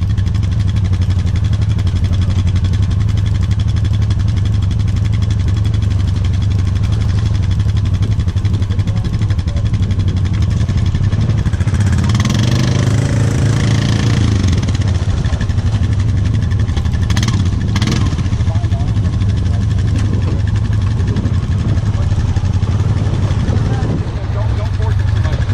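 A four-wheel drive vehicle stuck in a swamp runs its engine at a low steady idle-like drone throughout, with a brief rise in revs midway and people talking over it.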